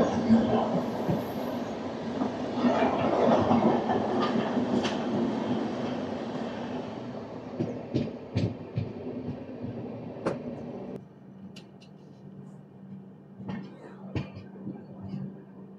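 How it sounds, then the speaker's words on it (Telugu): A Secunderabad–Guntur train passes close by, with steady rumbling and clattering wheels that build loud then ease into a quieter rolling hum with occasional sharp clacks. "సికింద్రాబాద్ గుంటూరు ట్రైన్ ఇది."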